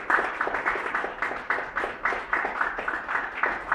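Applause from an audience seated in a hall, a steady patter of rhythmic clapping heard at a moderate distance, fairly quiet and continuous.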